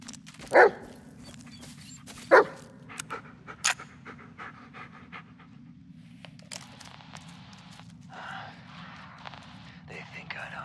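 Dog in the Blair Witch video game panting softly through the scene, with a few sharp bark-like bursts near the start amid footsteps and rustling.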